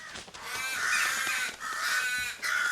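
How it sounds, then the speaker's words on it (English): Several crows caw harshly in the video game Once Alive, a run of loud, overlapping calls repeating close by with no speech. "Oh no, crows."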